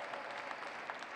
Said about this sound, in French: Moi, je vous trouve bien timide dans vos applaudissements.